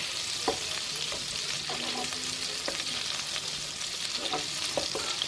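Eggs fry in a pan with a constant, even hiss and sizzle and a few faint crackles and pops, with no voices.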